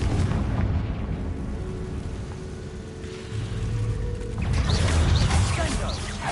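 A Confringo spell explosion in the video game Hogwarts Legacy, a sustained loud rumbling burst with crackling debris that swells again near the end, dense and close with no voice over it.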